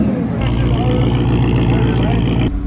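Cadillac CTS-V with an aggressive cam, muffler delete, intake, tune and headers idling nearby, a loud, steady, lumpy rumble with a choppy cam lope throughout, with voices talking over it.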